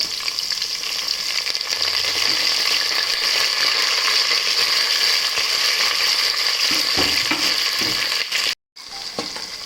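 Sliced onions and curry leaves fry in a pan for a chickpea and dried-fish kuzhambu, making a loud, continuous hiss with occasional soft clinks. The sizzle cuts out briefly near the end, then returns.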